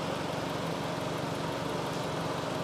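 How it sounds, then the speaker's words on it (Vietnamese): Steady idle of the engine of a five-seat automatic high-clearance car, a smooth, even hum held close and constant throughout with no voices. "Đây máy nổ anh chị, êm không?"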